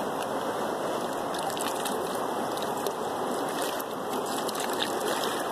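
Water sloshes and washes steadily in a gold pan as black sand is rinsed out, a close, continuous rushing wash with no talk over it.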